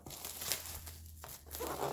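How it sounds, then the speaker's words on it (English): Scissors cut down through crafting-kit packaging at close range, bringing a continuous crinkly, tearing rustle with small sharp crackles throughout. "I'm just going to slice this down with the scissors."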